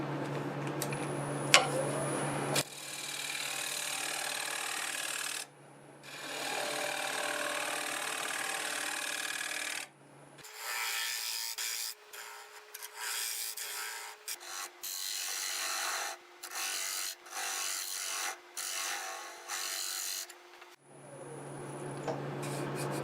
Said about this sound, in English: I'm going to take my negative rake scraper and blend this in